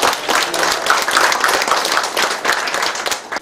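Villagers at a mayor's community meeting in a Korean township clap for the mayor, a loud, crisp, continuous round of applause close by that fades slightly toward the end, with no talk over it.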